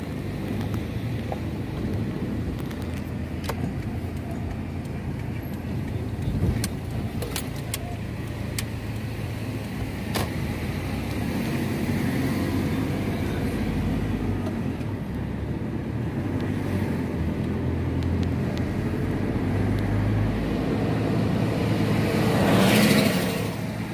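Cars crawling in a night traffic jam in Jeddah, heard from inside a vehicle as a steady low engine and road rumble with passing traffic, building to a louder swell near the end, no talking.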